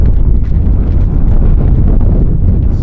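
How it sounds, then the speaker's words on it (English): Steady, loud wind buffeting a microphone outdoors in Death Valley, a continuous low rumble with gusty surges throughout and no talking. "It's getting windy."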